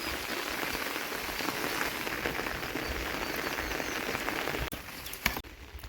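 Heavy monsoon rain pours in Banaskantha, a dense, steady hiss of drops striking surfaces close by, with a few sharper taps near the end.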